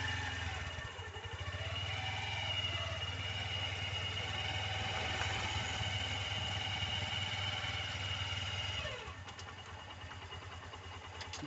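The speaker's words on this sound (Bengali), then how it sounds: "মনে হচ্ছে পিছনে একটা যেন বাইক আসছে। দেখি বাইকটা বেরিয়ে যাক।" A motorcycle comes up from behind and rides past, its engine a steady, loud mid-pitched drone that fills most of the clip before easing off near the end.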